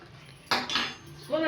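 Metal spoons clink and rattle against each other as they are quickly lifted during a party game, a short close burst of clatter with faint voices around it.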